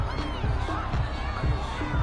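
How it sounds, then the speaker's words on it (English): Home football crowd at a stadium reacting after a penalty flag on an incomplete pass, a steady broad roar of many voices with rhythmic low thumps, sustained at moderate level throughout. "This home crowd, they're happy with that call."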